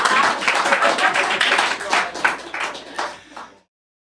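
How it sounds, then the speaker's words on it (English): Audience applause at a writers' workshop showcase, several seconds of close, lively clapping from a small crowd that thins out and stops abruptly. "thank you for that applause"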